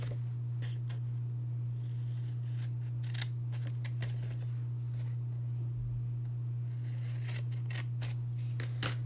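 Scissors cutting through material for a Halloween treat holder craft, with a series of close, crisp snips in irregular bursts over a constant low electrical hum.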